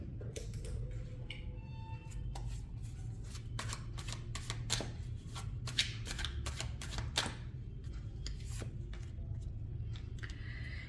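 A deck of tarot cards is shuffled close by in a series of crisp riffling and clicking bursts, repeated in quick clusters over a low steady background hum.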